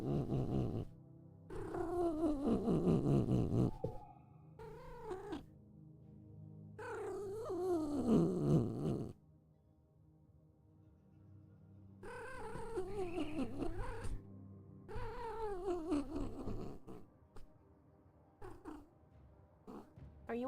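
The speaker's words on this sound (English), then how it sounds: "Enjoy the cat sounds, people." A female cat in heat caterwauls in long, wavering, drawn-out yowls, close by, with purring in the gaps between cries.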